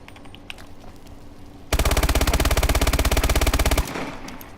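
Call of Duty Advanced Warfare MP11 submachine gun firing one sustained, very rapid burst of about two seconds, loud and close, with quieter game ambience before and after.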